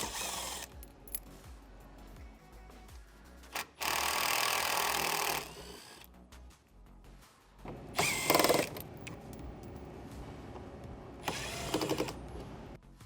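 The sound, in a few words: removing 10 millimeter bolts from a Rivian R1S panel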